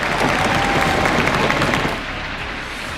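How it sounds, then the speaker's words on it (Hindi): Live audience applause at a DD Conclave event, a dense, loud wash of clapping that thins and softens slightly toward the end. "आपकी तालियां बताएंगी कैसे हैं आप लोग"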